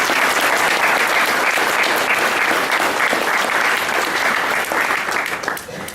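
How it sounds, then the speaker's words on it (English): Audience at a Grossmont College literary festival bursts into dense, sustained applause that fills the room for about six seconds before tapering off at the end. "Please give them a warm round of applause."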